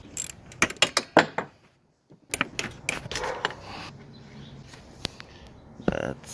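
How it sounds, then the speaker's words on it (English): Valve cover being pulled off a small engine during a big bore kit job, a series of close metallic clicks, taps and scrapes in uneven bursts, with someone talking between them. "Alright, now pulling the valve cover off."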